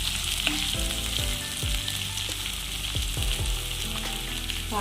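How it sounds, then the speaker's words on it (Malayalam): Onions for a masala curry sauté in a pan with a steady close sizzle throughout, broken by repeated stirring scrapes and knocks, moderately quiet and without any talking. "സവാള ഒന്ന് നന്നായിട്ട് വഴന്നു വരണം"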